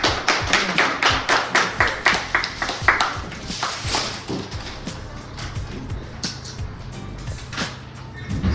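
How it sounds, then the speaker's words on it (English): Audience applause for a speaker at a writing festival in Abergavenny: a burst of steady hand clapping that peaks early and then thins into scattered claps and room noise. "Big round of applause for Gavin."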